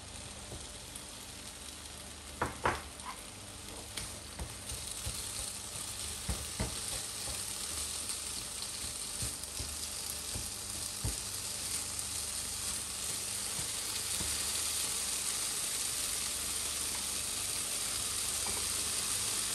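Bacon sizzles steadily in a pot for a Norwegian wild game stew, a continuous close frying hiss with a few stirring clicks early on, growing slightly stronger over time with no talking.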